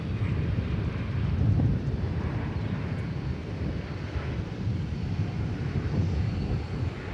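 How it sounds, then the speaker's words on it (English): A jet airliner landing on runway 18 left at DFW Airport, heard from a distance as a steady low engine roar with wind buffeting the microphone outdoors. "Incoming now, and this is coming in on runway 18 left, normally the takeoff runway"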